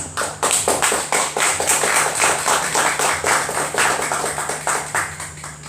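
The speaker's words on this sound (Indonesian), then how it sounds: "Para tepuk tangannya." Clapping from an audience at a welcome ceremony at the Museum Pusaka Nias, a dense run of sharp hand claps that holds steady and fairly close for several seconds with no talk over it.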